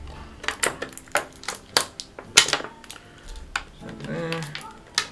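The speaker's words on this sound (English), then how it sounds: "Just snip the sellotape." A knife snipping sellotape on a GI Joe Classified figures package: a series of sharp, close clicks and snaps at an uneven pace, with a person speaking during part of it.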